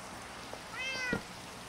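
A cat in a video game gives one short, clear meow that rises and falls, heard alone over faint background hiss.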